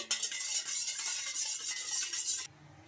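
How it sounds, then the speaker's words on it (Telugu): A spoon stirs salt and sugar into water in a bowl, giving a dense run of quick scraping clinks for about two and a half seconds before stopping abruptly. "ఇంకా మనకు సాల్ట్ షుగర్ అన్నీ బాగా కరిగిపోయే వరకు బాగా కలుపుకోవాలి ఇలా స్పూన్ తోటి."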